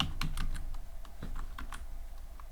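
Computer keyboard typing while coding a Pong game in Python: a quick run of distinct key clicks, close and fairly quiet, with a brief pause midway before more taps.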